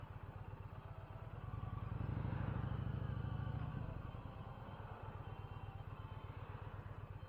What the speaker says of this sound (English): I got to get reoriented with this motorcycle. It's the Indian Challenger.